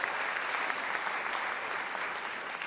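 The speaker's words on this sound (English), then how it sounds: "I think that deserves a huge round of applause again, everybody" An audience at a TEDx salon event claps in a sustained, dense round of applause, loud and even throughout with no voices on top.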